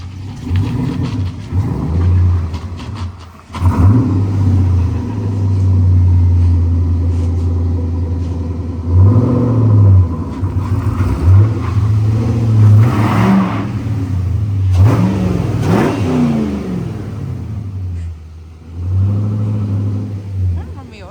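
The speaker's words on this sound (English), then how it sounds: "The engine wasn't noisy, it wasn't ticky, everything sounded good." Abandoned V8 race car engine idling and revving in a shed, a loud low rumble that swells with several throttle blips and settles back, with some talk over it.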